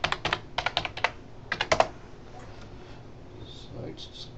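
Quick bursts of keystrokes on a computer keyboard as a password is entered during a software installation, two clusters of crisp clicks followed by quieter faint taps.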